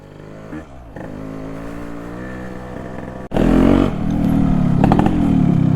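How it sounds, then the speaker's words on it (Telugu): Yamaha RX135 motorcycle engine kick-started in one go, a steady idle hum that jumps into a loud, sharp revving burst midway before settling into a rougher, louder running note, close by with no talk. "ఇప్పుడే అయినా కానీ ఒకే కిక్లో బండి స్టార్ట్."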